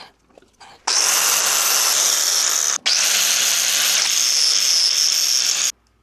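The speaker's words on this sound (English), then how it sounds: "I'm going to grind that one down anyways" A grinder grinding down a weld on an offroad buggy frame, two loud sustained bursts of harsh high whine with a brief stop between, close and steady, no talking.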